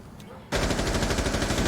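Sustained automatic gunfire in the tactical shooter Rainbow Six Siege during a collegiate match, bursting in loudly after a brief quiet moment and continuing as a dense, rapid rattle.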